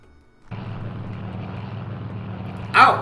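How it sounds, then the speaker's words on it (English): A B-29 airplane in The Labyrinth of Grisaia rises in as a steady, droning propeller-engine rumble passing overhead, loud and continuous for a few seconds, with a short burst of another sharp sound at the end. "That's a B-29, ain't it?"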